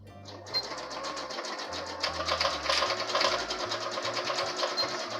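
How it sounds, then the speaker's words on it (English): Sewing machine stitching the seam of a Christmas stocking, a close, steady rapid whirr of the needle running continuously for several seconds with no talk. "Back stitch when you begin any of these seams."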